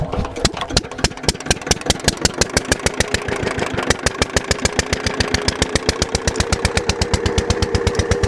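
A Peter diesel engine on a farm cranks and catches, then settles into a loud, steady, rapid thumping idle close by, each beat sharp and regular throughout, with no voices.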